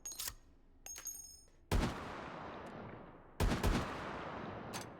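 Sharp, loud gunshots from a revolver-loaded gun in Hotdogs Horseshoes & Hand Grenades, fired rapidly by hand. A few faint early shots give way to two heavy blasts with lingering rumbling decay.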